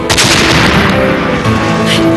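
Fireworks burst in a loud, dense, continuous barrage of crackling explosions that drowns out everything else.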